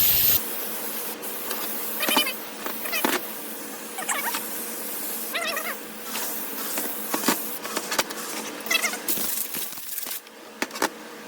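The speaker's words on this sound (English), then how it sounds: "just spray everything, clean it all up" Short hissing bursts of an aerosol cleaner spray on 6L90 automatic transmission parts, repeated several times with pauses and faint handling clatter between them.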